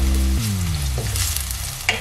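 Onions sizzle and fry in a pan, with steady frying crackle filling the clip and a wooden spatula scraping and stirring through them, close and fairly loud, with a sharper knock near the end.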